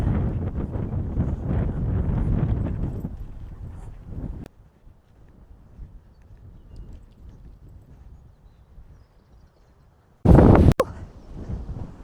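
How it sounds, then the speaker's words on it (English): Gusty wind buffets the microphone for several seconds on a countryside walking path between Caythorpe and Ropsley, fades into a quiet lull, then a sharp loud blast of wind noise hits near the end. "Windy."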